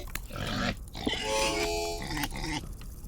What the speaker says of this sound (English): Angry pig. We have an angry pig here.